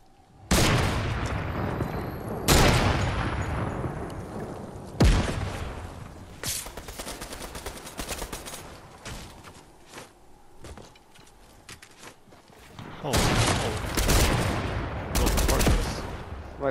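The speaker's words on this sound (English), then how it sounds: "Oh my god, I keep shooting myself." Video game gunfire, with bursts of rapid automatic shots and single loud blasts arriving in clusters, close and loud, separated by quieter stretches of footsteps and movement and occasional talk.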